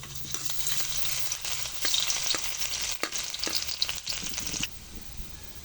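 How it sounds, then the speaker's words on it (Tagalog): Garlic fries in hot oil in a pan, a close, continuous sizzle broken by scraping stirs, with no talking. "Una mag-iinit tayo ng mantika sa kawali."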